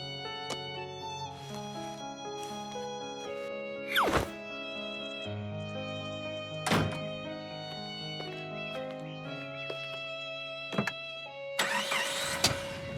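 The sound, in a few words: cartoon car driving off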